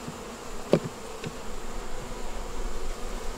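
Honey bees buzz steadily around an open hive during a winter beekeeping inspection, a low, continuous hum with a few individual bees passing close.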